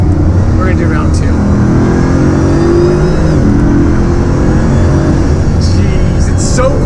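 Bugatti Veyron at full throttle, its engine surging in a dense, loud low roar that builds steadily, with people talking underneath.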